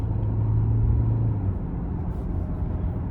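A 2025 Hyundai Santa Fe Hybrid SEL with turbocharger pulls ahead in eco mode, a steady low engine and road rumble heard from inside the cabin, with no talking.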